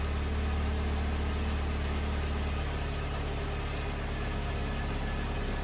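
A 2007 Pontiac Solstice engine idles steadily during a fuel tank purge and seal test, with a low, even rumble and constant hum, no revving, close and unchanging throughout.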